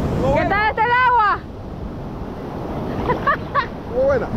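Ocean waves wash onto a beach on El Salvador's Costa del Sol, a loud continuous roar of surf with wind buffeting the microphone, while people talk and exclaim over it.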